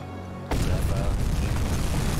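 A torpedo strikes a ship in the submarine game UBOAT, and a loud, sudden booming blast bursts in after a quiet start and stays dense and rumbling to the end.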